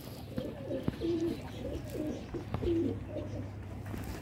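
A female Rampuri pigeon coos softly a few times in a quiet spot, low gentle calls repeating with small knocks and faint background noise.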